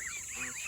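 A single goose gives a short nasal honk, close and moderately loud, lasting under a second.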